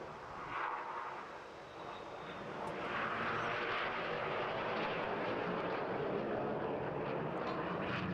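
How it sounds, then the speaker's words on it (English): A Red Arrows display jet races low past the beach at an air festival, its engine roar rising from a distant rumble to a sustained, fairly faint rushing blast. "Red 8 arrives 450 miles per hour, only 100 feet with a blue smoking trail."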